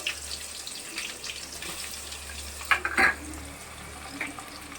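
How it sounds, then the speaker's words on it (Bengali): Chopped onions hiss and sizzle steadily in a pan of fried whole garam masala for poppy-seed chicken, with a few louder stirring scrapes near the middle. "এবার আমি এতে দিয়ে দিচ্ছি পেঁয়াজ কুচিগুলো"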